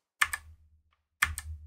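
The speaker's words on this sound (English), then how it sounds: "Now I can just use the arrow keys" Arrow keys on a computer keyboard are tapped to step through presentation slides: two close, crisp double clicks about a second apart, heard alone in a quiet room.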